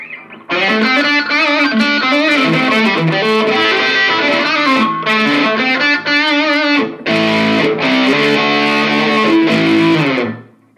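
Electric guitar through an OCD overdrive pedal riffs loudly for about ten seconds, gritty chords and single notes with a brief pause midway, no voices.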